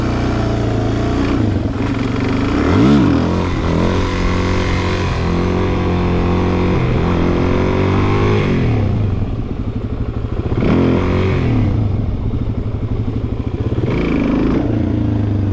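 A Suzuki DRZ400SM motorcycle engine runs loud and close, holding a rough idle and swelling through several throttle blips and revs, with wind noise and clatter over the engine and no talk.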